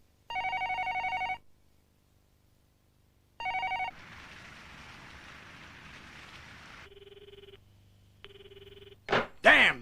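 A telephone rings unanswered in two long bursts separated by silence, followed by a hissing rain-like wash and some shorter tonal sounds; fairly close and clear, with no talking.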